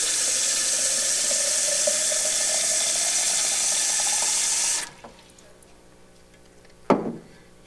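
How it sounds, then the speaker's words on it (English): Tap water runs steadily into a glass jar for about five seconds, its pitch rising as the jar fills, then cuts off, followed by a short clink near the end. "So now I'm going to fill my jar with water."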